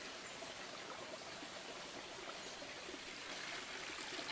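A forest stream flows on a cool early morning, a constant soft rush and trickle of water, steady and fairly faint, with no voices over it.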